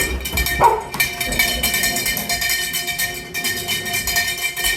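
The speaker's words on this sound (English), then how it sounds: "So right now you hear Montana, it's the noise on the echo is like a puppy yelping." A dog yelps and whines repeatedly in high, puppy-like cries, fairly close, over a steady background hum.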